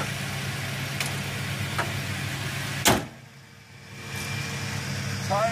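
A 2000 Toyota Tacoma SR5 engine idles steadily at close range, a low constant hum with a brief sharp knock or clunk near the middle and a short dip in level afterward.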